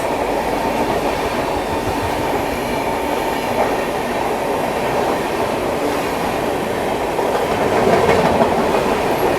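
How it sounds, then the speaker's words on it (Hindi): Patna Tejas Rajdhani Express passing alongside a moving train in India, a steady, loud rush of wheels and rail rumble with rhythmic clatter running unbroken throughout. "पटना तेजस राजधानी एक्सप्रेस।"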